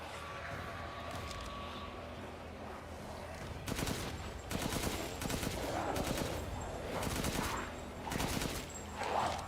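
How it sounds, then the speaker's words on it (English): Rapid bursts of gunfire from Chris's weapons in Resident Evil Village, a survival horror video game, come in repeated loud volleys over a steady game background. "And Chris's guns are a lot more stronger. Like, his guns are pretty potent."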